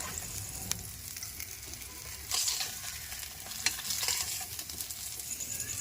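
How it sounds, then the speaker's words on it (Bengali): Fish frying in hot oil in a small pan, a continuous close sizzle with occasional bursts and spatters, with no voices. "ছোট কড়াই, বেশি মাছ দেওয়া হয় না, অল্প অল্প করে দিয়ে দিয়ে ভাজতে হবে"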